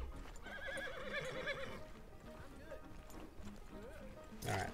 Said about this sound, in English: riding my horse very fast through town